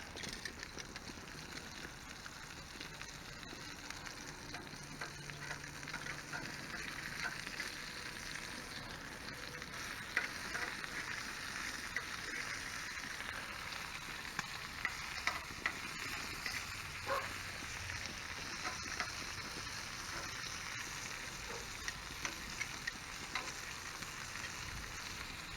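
Steady sizzling and crackling of L.A. danger dogs cooking over an open wood fire, a continuous faint hiss with occasional pops and small clicks throughout, and no one speaking.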